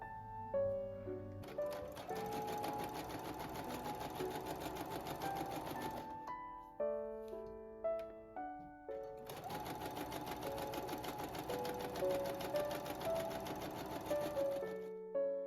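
Sewing machine running at maximum stitch length with zero width to stitch gathers on a midi skirt, two long close bursts of steady mechanical whirring separated by a short pause, with no voices and soft background music.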